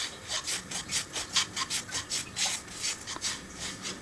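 Dry semolina roasting in a pan over low-medium gas flame is stirred steadily, giving a rhythmic, close scraping and rubbing about twice a second with no talk.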